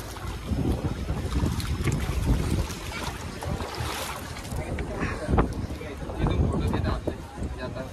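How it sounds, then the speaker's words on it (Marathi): A boat moving on open water at Mumbai, with steady wind buffeting and a constant low rumble of engine and water throughout, while people talk over it. "फर्स्ट टाइम मी बोट रायडिंगला चाललो आहे"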